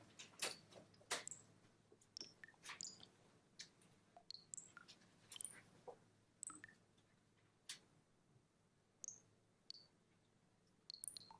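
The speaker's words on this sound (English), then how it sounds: "That little ticking noise is the soundtrack." Ticking that makes up the soundtrack of the Umwelt Belt artwork by Michael Joachim Gray: faint, irregular small clicks and ticks scattered through a quiet room, with occasional short high chirps.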